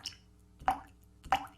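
Water drips into chicken broth in three distinct, close plops about half a second apart, alone in a quiet setting.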